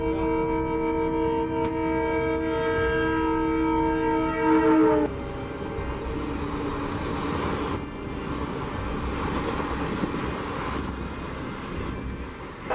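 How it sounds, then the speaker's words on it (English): A train running through a village where it strikes a cow sounds a loud, sustained horn that cuts off sharply, leaving a rumbling rail noise with a few dull knocks. "The train collision with a cow in the village"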